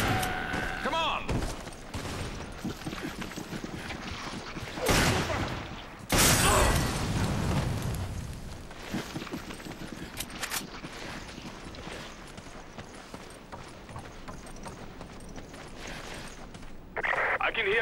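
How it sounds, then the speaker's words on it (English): Bursts of gunfire in the video game Resident Evil 5, several loud sharp volleys in the first half followed by scattered shots and steps, with voices occasionally over the action. "I can hear gunfire"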